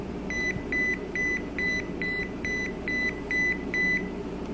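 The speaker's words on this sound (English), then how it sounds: "let's go ahead and page the handset" A BellSouth MH9934BK cordless phone base pages its handset with a steady series of about nine short, clear electronic beeps, evenly spaced over a faint background hum.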